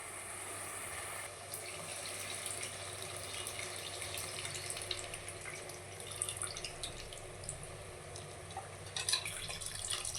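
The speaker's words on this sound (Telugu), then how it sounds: "ఇప్పుడు నేను ఇందులో టమాటా పండు జ్యూస్ వేస్తున్నాను అనమాట" Tomato juice and pulp are poured into a cooking pan for an egg pulusu, making a quiet, steady liquid stream with light splashing that runs throughout.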